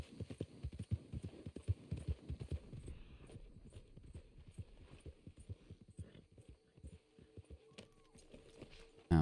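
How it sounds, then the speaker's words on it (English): Horse hooves clip-clop at a steady walking rhythm in the video game Red Dead Online, quiet and close, over a low hum with faint background ambience and no talking. "that's a nice horse"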